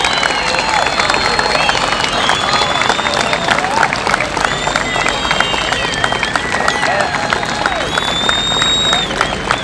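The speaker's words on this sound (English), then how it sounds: "Ladies and gentlemen, please give a round of applause." Crowd applause at an outdoor softball tournament in Kennedy Park, Chicago, steady dense clapping mixed with scattered cheers and whistles that holds for several seconds.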